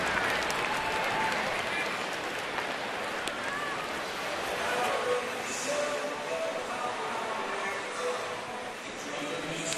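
Large baseball stadium crowd during a Mets at Nationals game, a steady wash of cheering and applause filling the whole stretch with a roar, swelling slightly at times, with no clear talk over it.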